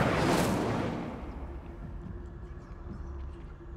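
Incendio fire spell cast in Hogwarts Legacy: a sharp whooshing burst of flame at the start that quickly fades into a low lingering rumble with faint crackles and a thin sustained tone.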